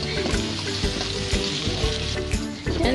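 Onion frying in a pan for Bicol Express, a loud, dense sizzle with crackling pops, close to the pan and continuous over a few seconds.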